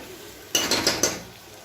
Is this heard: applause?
no